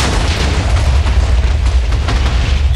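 Bomb blasts in the minesweeper mod for Minecraft, a loud continuous rumbling boom filling the whole stretch with dense low-end roar and no pauses.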